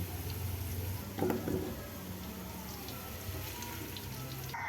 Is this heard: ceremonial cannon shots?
no